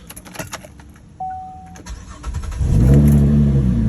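A 2012 Chevrolet Impala LTZ, raised on one side in a garage, cranks briefly and its engine catches, settling into a loud, steady idle that builds and holds near the microphone.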